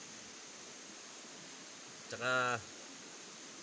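A river running high and swollen in the rainy season gives a steady, even rush of water throughout, while a voice briefly speaks one word partway through.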